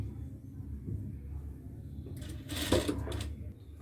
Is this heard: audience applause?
no